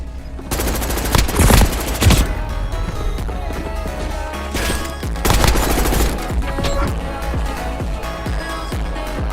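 Warzone video game gunfire: dense, loud bursts of rapid automatic shots rattle almost continuously, swelling into heavier volleys twice, with no talk.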